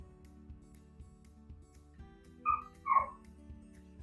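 A dog gives two short, muffled barks from another room, faint behind soft kitchen sounds and a low background hum during home canning of squash and zucchini.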